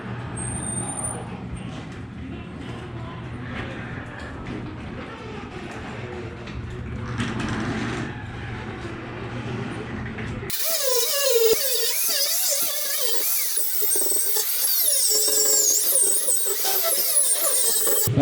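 A big spongy stripping wheel on a power tool grinds rust off the frame of a Chevy S10, a steady loud abrasive whir that jumps sharply brighter and harsher partway through.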